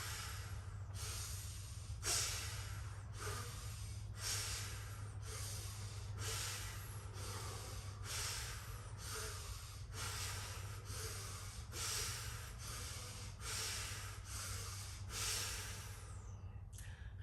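A person breathes out repeatedly during a yoga flow in cactus-arm pose, the soft airy exhales pulsing at a steady rhythm about once a second over a low constant hum.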